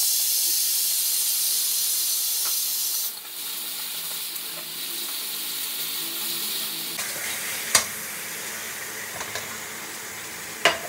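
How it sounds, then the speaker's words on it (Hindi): Fried onions hitting hot oil in a home kitchen set off a loud, steady sizzle and hiss, which eases slightly after a few seconds and continues with occasional sharp clicks of stirring. "तेल भी गर्म हो गया, फटाफट ये प्याज जो फ्राई की वो ऐड कर देते हैं।"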